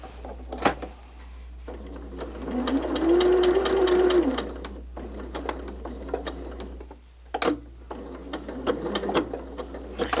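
Sewing machine stitching a stained glass quilt top, a steady rapid mechanical whir with a rising whine midway, a pause, then further stitching, close and fairly loud.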